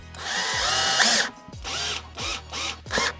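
A cordless power drill drives a screw into a bike tire to make ice studs, with one longer whir followed by several short bursts spaced by brief pauses, close and loud.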